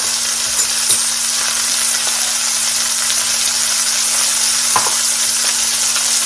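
Chuck roast browning in a little olive oil in a pan, giving a steady close sizzle and fry with faint crackles and a low hum underneath, no voices.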